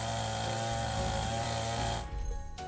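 Saw cutting off the end of a piece of wood in a DIY simulation video game, a loud, continuous mechanical buzz that holds steady for about two seconds and then cuts off abruptly.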